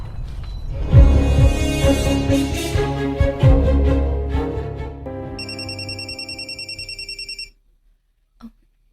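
A mobile phone ringtone for an incoming call rings out as a bright repeating electronic melody, loud and close, over music-like tones before cutting off, followed by a brief click.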